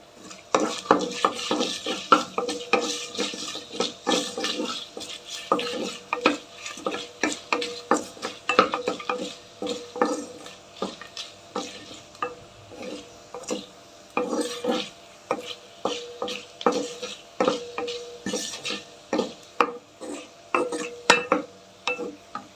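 Spice powder of roasted coriander seeds, black pepper, cumin and ajwain being fried and stirred in a pan, with a steady run of close, repeated scraping and clinking of a spoon against metal, faint sizzling underneath, no talk.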